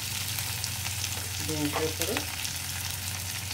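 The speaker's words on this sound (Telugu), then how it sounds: "పోపు వేసి ముక్కలు వేగుతున్నాయి కదా" Vegetable pieces frying in tempering oil for sambar, a steady close sizzle with soft stirring scrapes midway and a brief voice over it.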